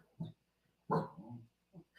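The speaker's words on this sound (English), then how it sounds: "Remy, please don't bark. You're a little dachshund." A small dachshund barks a few times indoors: one short yap, then a louder, longer bark with a trailing whine, followed by a brief soft yip, with quiet gaps between.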